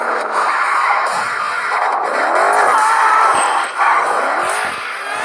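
A car in Gangstar Vegas, won in a race mission, drives hard with a loud, steady engine roar, shifting pitch and bursts of tire squeal across the whole stretch.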